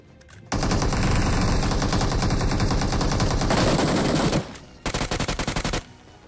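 Automatic gunfire in the mobile shooter BGMI: a long, loud, unbroken burst of rapid shots, a brief pause, then a shorter rattling volley, with no speech over it.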